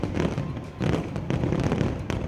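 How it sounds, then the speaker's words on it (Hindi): Fireworks and firecrackers burst one after another at a night celebration, a dense, loud, continuous barrage of crackling pops and booms with no pauses. "इतनी जोरदार आतिशबाजी शुरू हुई कि ऐसा लगा जैसे दिवाली मनाई जा रही हो।"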